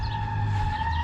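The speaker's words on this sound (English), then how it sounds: "sorry about the sirens in the background." A siren wails steadily in the distance, holding a sustained tone over low background rumble, with no talking.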